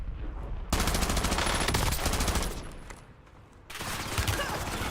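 Sustained automatic gunfire in Warzone rattles in dense bursts, loud and close, with a brief lull before firing resumes; a voice speaks briefly amid the shots.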